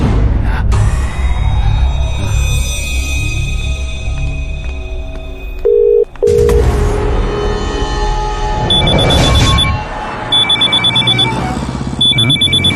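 A phone rings with a repeating electronic ringtone in bursts near the end, following louder background sound and music-like tones.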